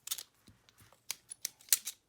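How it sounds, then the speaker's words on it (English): Quiet, close snips of scissors cutting through paper, several short crisp cuts in an uneven rhythm. "I think I should take these scissors"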